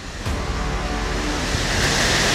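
Typhoon wind roars as a dense, constant wash of noise with crashing surf beneath, loud and unbroken for the whole stretch.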